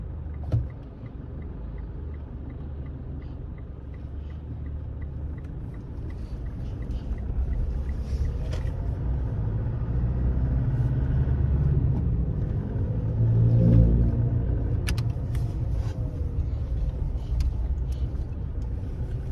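Linglong Crosswind 285/75 R16 mud tires drone with a steady low rumble of road noise inside a moving vehicle at low speed, swelling slightly midway, with no talking.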